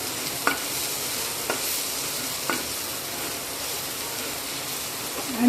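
Salt, red chilli powder and chicken masala are stirred together in a bowl for crab sticks, giving a steady soft hiss with a few light, evenly spaced taps.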